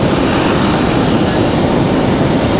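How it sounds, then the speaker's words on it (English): A Frontier airliner arriving at Raleigh-Durham International Airport roars steadily and loudly, with a dense, broadband jet rumble that holds even throughout, close by, with no voices. "the next arrival is going to be that Frontier"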